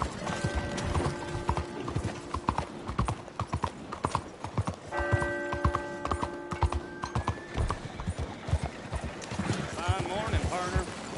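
Horse hooves clip-clop steadily at a gallop in Red Dead Redemption 2, with a horse whinnying and game music and talk running beneath the rhythmic beats.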